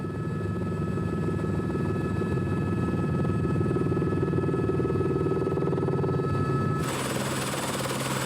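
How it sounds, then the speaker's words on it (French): Helicopter ride out to Tromelin island in the Indian Ocean, a steady loud rotor throb and turbine whine filling the whole stretch, close and unbroken, with a brief shift in tone near the end and no talk. "Aujourd'hui, l'hélicoptère est le seul moyen d'y aller"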